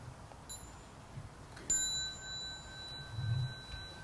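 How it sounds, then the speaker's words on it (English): A small mindfulness bell at a meditation retreat gives a single clear, high ring that hangs and fades over quiet room tone, with no talking. "When the children hear the small bell, they may like to stand up and bow to the Sangha before they go."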